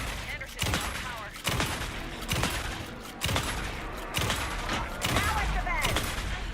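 Gunfire in the video game Alan Wake 2 cracks out in regular heavy shots about once a second over a dense background rumble, with voices in the mix.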